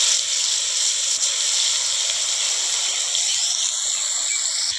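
Ground spice paste sizzling in hot mustard oil for a spicy prawn mustard curry, a steady, loud, broadband hiss that holds evenly throughout with no talk over it.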